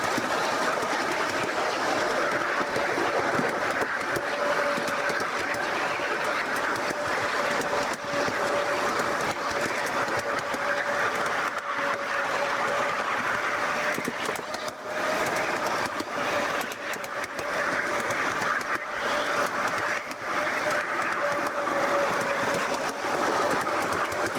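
A 5 inch gauge Hymek model locomotive runs steadily on a garden railway, its continuous rolling rumble and wheel clatter holding an even level throughout with a faint sustained tone, recorded close from the moving train with no talking.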